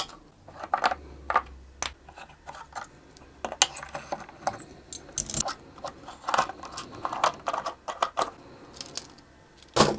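Clamps come off a violin under repair once the glue has dried, with a series of close, sharp wooden and metallic clicks and knocks at an irregular pace and no talking.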